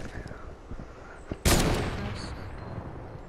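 A single loud blast of Fortnite gunfire rings out over a low background of game sounds, followed by a fading tail of noise.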